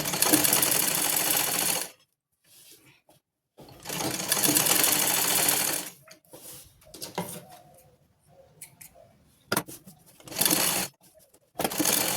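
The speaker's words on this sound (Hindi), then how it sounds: "मैं इस टाइम सिलाई लगा ले रही हूँ।" Sewing machine stitching fabric for a short kurta, running in loud steady bursts of about two seconds each, separated by quieter pauses with faint handling of cloth.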